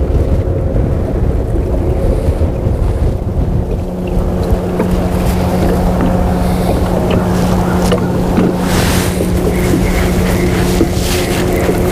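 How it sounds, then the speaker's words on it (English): Strong wind buffets the microphone outdoors on the water while fishing, a constant, loud, rumbling roar that lasts throughout with no talking. "Wind picked up."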